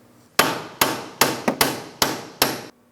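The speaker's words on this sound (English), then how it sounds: "Now we're going to be using a hammer. We'll tap the hardware out forward towards this area." Hammer tapping out front strut mounting hardware on a 2004-2008 Pontiac Grand Prix, seven sharp metallic blows in a steady rhythm, close and loud with brief ringing decay and no talk.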